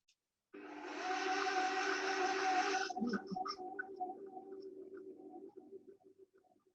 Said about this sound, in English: put this on and mix the butter into the flour